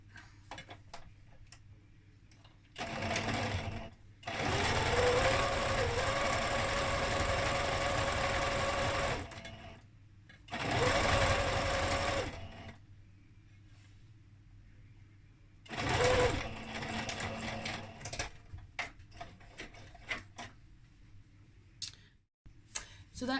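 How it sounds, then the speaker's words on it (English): A sewing machine runs a 1 cm seam on a fabric gift bag in three separate bursts, each a few seconds long and fairly close, with quiet pauses and soft clicks of handling between them. "I'm just gonna sew another 1 centimeter seam from the bottom up to that"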